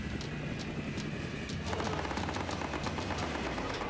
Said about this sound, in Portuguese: São tiros! Cuidado! Estão atirando!